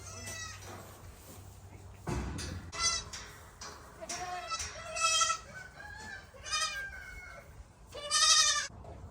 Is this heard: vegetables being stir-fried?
no